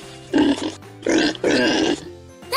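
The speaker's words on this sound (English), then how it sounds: "Can you oink like a pig?" A pig grunts and oinks in three close, throaty bursts with short pauses between them, heard near and clear.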